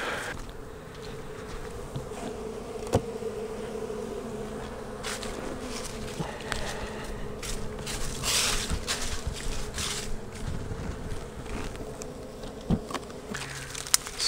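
Honey bees swarm and buzz steadily around an open hive while it is smoked, with a dense droning hum throughout, occasional louder passes of single bees close by, and light clicks and knocks of equipment.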